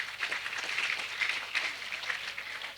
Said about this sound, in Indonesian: silahkan kalau mau tepuk tangan ya